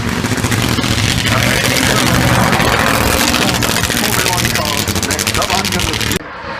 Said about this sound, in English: listen to the glorious sound of the Formula One car. By Nico Rosberg